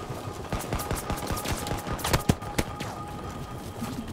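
Gunfire in the video game Battlefield 2042: rapid bursts of shots crackle at an uneven rhythm, mixing nearer sharp cracks with more distant firing, with no talk over it.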